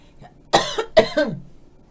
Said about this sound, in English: after that coughing fit